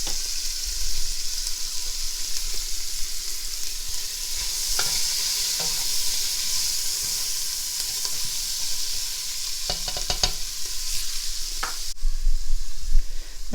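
Onions and carrots sauté in a pot for chicken noodle soup, giving a steady close sizzle with scraping, clattering stirs of a spoon against the pot, louder toward the end.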